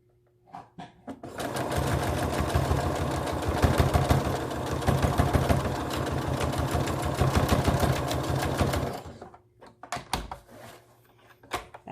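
A sewing machine rattles in a rapid, steady run as it stitches over the elastic on a fabric face mask, loud and close, with quieter handling clicks before and after.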